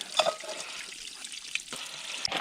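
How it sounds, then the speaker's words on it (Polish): Water runs from a mountain spring beside a hiking trail on Wielka Rycerzowa, a faint steady trickle and splash heard alone at close range. "A tu takie źródełko."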